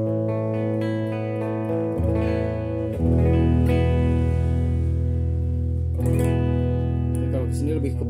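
Electric guitar played through an AHS cabinet simulator pedal, sustained clean chords ringing loud and close with a few strummed changes, no talking.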